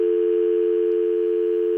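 A steady, unbroken telephone dial tone hums at constant loudness on a phone line right after a call drops, clean and alone with no voices or clicks.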